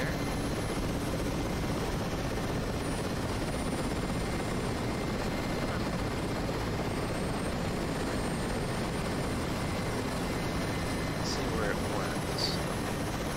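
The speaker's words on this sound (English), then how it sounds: "Oh, I see a helicopter." A Mi-8 helicopter in the DCS World flight game, a loud steady rotor and engine drone that holds for the whole stretch, with a few faint high beeps near the end and no one speaking.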